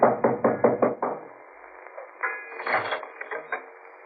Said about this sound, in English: I knocked for Peterson.